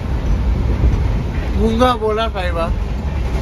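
Inside the moving Netravati train to Kerala, a loud, steady low rumble of wheels and carriage noise runs throughout. Someone speaks briefly over it midway.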